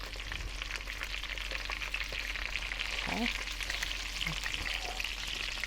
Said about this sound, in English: anytime you're frying, whether it's a deep fat fry or whether it's just a skillet fry